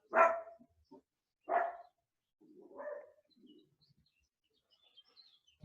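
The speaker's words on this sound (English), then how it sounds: "You see, my dog agree." A dog gives three loud, separate barks a second or so apart, with a quieter, drawn-out bark-whine after them and brief faint yips in a quiet room.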